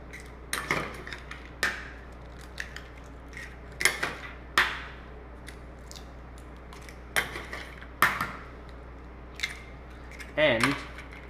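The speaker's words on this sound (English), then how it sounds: "I'm gonna crack 4 eggs into this" Eggs are cracked into a well of flour for pasta dough: a series of sharp, close clicks and taps spaced a second or two apart over a quiet room, with some light handling noise.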